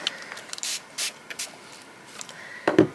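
Short bursts from a spray bottle misting onto a painted art journal page decorated with napkin and rice paper, several quick close hissing puffs in an uneven rhythm, with a louder double spray near the end.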